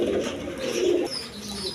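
Pigeons, including coloured breeding pairs, give soft, low, throaty coos close by, a couple of rolling calls over a faint background.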